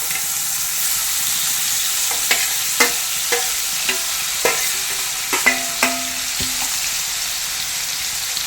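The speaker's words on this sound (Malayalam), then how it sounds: "ബാക്കിയുള്ള മീൻ നമുക്കിതോടൊന്ന് ഫ്രൈ ചെയ്തെടുക്കാം" Small anchovies frying in hot oil, Kerala style, give a steady broadband sizzle with irregular stirring clinks and scrapes of a spatula against the pan, close and alone with no voices.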